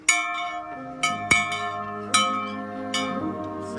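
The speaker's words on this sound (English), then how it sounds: "And let's ring the bell." An old schoolhouse bell rung outdoors in rainy weather gives several loud metallic strikes at uneven intervals, each ringing out with a long, shimmering decay that overlaps the next.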